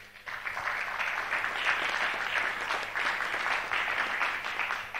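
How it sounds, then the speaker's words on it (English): Sustained audience applause at an agricultural strategy launch event, a dense, steady wash of many hands clapping that rises quickly and holds evenly for several seconds, fairly close and full. "In fact, this one needs a big applause."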